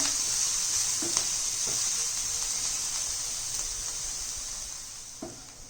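Mixed vegetables fry in a pan for a Spanish omelette, giving an even, continuous sizzle and hiss with occasional soft stirring knocks that slowly fade a little in loudness.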